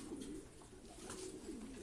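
Soft cooing of young pigeons, low and repeated in short phrases over a steady background of ambient noise.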